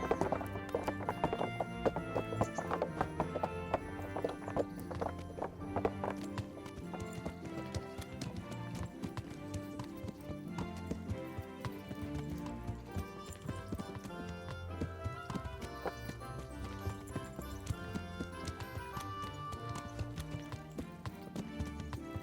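A horse gallops in the medieval video game Kingdom Come Deliverance, with steady rhythmic hoofbeats continuing throughout under a dense orchestral music score, moderately loud and close.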